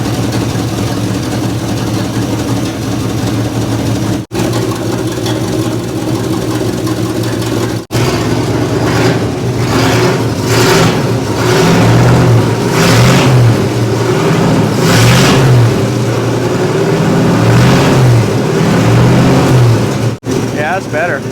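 Old Chevy mule hauler truck engine, long parked in the desert, idling loud and steady with several rising revs as the carburetor is adjusted, with brief cutouts between stretches.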